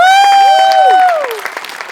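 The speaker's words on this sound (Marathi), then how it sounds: "आणि अभिजित पवारसाठी प्रचंड टाळ्या" Studio audience applause at a Marathi comedy show, a brief burst of clapping partly masked by a loud, gliding tonal whoop that dips and falls before the clapping thins out.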